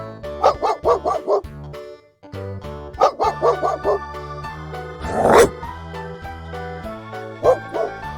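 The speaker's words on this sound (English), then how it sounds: "Dog. Dog." A dog barks in rapid bursts of several barks, pausing between groups, fairly close and clear over a steady musical background.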